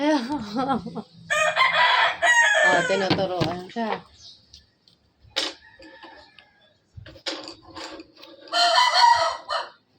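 A rooster crows a few times amid people chatting nearby, the calls rising and falling between bursts of talk.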